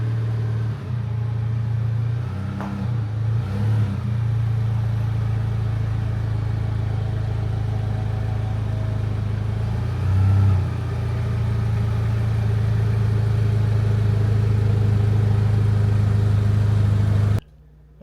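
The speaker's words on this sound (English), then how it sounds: "So let's pull the truck into the garage." A GM pickup truck engine idles and rumbles at a steady low drone while pulling into a garage, fairly close, with a few brief knocks before it cuts off at the end; no talk.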